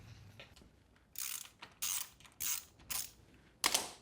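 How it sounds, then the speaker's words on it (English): Five short bursts of clicking from a 3/8-drive ratchet with a 10mm socket working loose a motorcycle axle nut, each burst a quick pawl rattle with brief pauses between, close and fairly quiet with no talking. "So I'm going to take my 3/8 drive in the 10mm and let's get that axle nut off."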